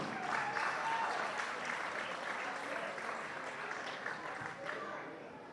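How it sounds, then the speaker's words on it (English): A crowd at a women's football Challenge Cup grand final claps for the NT Yapas, a dense burst of applause that starts strong and slowly thins over several seconds, heard from the stands. "A round of applause."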